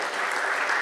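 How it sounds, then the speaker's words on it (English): A crowd at a Suffolk County high school football media day applauds a team and its coach, a brief burst of dense, steady clapping from many hands. "So nice round of applause."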